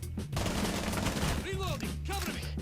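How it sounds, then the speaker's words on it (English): Loud, rapid gunfire from the Rainbow Six Siege video game, a Terrorist Hunt match in the closed beta, rattles in dense continuous bursts across the whole stretch. "I just wanted to shoot through there just in case he was on the other side"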